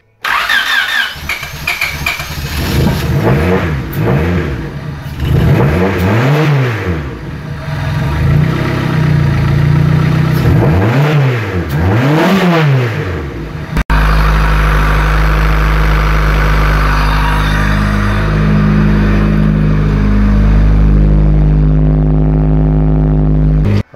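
A turbocharged Honda Civic D16 engine cranks several times in rising and falling starter bursts, then catches and settles into a loud, steady idle close by.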